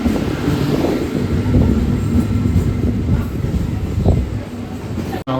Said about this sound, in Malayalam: ഇതാട്ടോ നമുക്ക് ഹൗറ വരെ പോകാനുള്ള ലോക്കൽ ട്രെയിൻ വന്നുകൊണ്ടിരിക്കുന്നുണ്ട്.